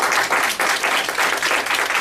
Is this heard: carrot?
no